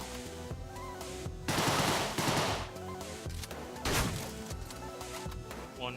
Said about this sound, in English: One Tommy gun shot left.